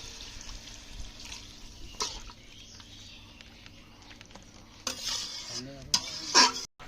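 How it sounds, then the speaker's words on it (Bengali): Water poured into a pan of spiced curry, then stirred with a spoon: soft splashing and scraping, mostly faint and steady, with a few sharper clatters and a brief sizzle near the end. "আমি এবার পরিমাণ মতন জল দিয়ে দেবো"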